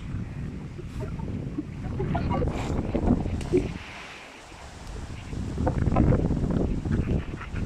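Wind gusting outdoors, a loud broadband rush that swells and fades and buffets the microphone.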